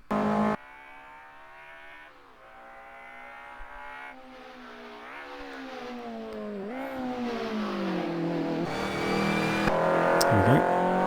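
A 1984 Ford Capri race car engine in a racing video game at Bathurst revs and climbs through gears, pitch rising and dipping with each shift, growing louder toward the end with a brief tire squeal.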